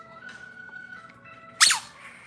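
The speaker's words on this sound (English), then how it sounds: "You're supposed to hear it squeak." A squeaky dog toy gives one sharp, bright squeak partway through, loud against a faint, quiet room background.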